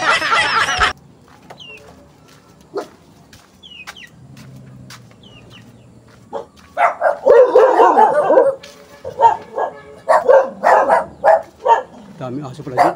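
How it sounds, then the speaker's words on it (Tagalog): Several dogs bark in bursts along a rural path, with clusters of sharp barks coming louder toward the end. Roosters and chickens can be heard among them, and someone speaks briefly near the start. "Daming aso pala dito."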